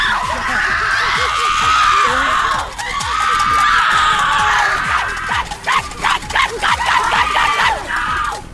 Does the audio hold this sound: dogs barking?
yes